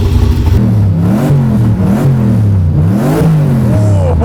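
A turbocharged engine in an HRG car fires up and revs loudly and close, its pitch rising and falling in repeated throttle blips with a rough, rowdy edge throughout.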